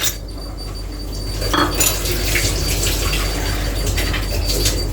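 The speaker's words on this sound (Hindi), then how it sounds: "एक जग और लेंगे, इसके अंदर हम बर्फ डालेंगे।" Ice cubes dropped into a jug for thandai, heard as close clinking and rattling clatter over steady background noise, with a few brighter clinks standing out.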